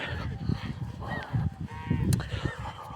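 A flock of farm geese keeps up a steady stream of nearby honks and cackles on an overcast Russian Far East homestead, the calls rising and falling in uneven bursts.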